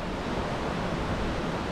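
Wallaman Falls in Australia sends down a constant broadband roar of rushing water, loud and close, with no break or speech.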